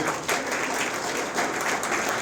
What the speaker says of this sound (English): we should all clap for ourselves and clap for the department